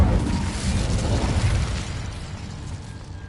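An Incendio fire spell blasts in Hogwarts Legacy on PS5 with a loud, broad whooshing burst that rolls on and slowly fades over about three seconds, with no voices.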